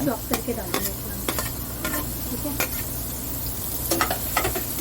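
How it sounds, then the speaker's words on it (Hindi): Finely chopped onion frying in hot oil in a pan, a steady close sizzle broken by the scrape and clink of a spoon stirring at intervals. "उसको अच्छी तरह से चॉप करके उसमें तेल में फ्राई में डाल दिया है।"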